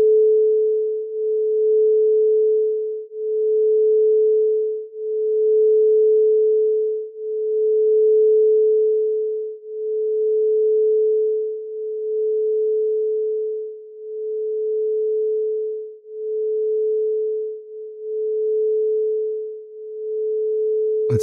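A quartz crystal singing bowl tuned to F rings a steady pure tone, struck again roughly every two seconds so the hum swells and sustains continuously with no voices.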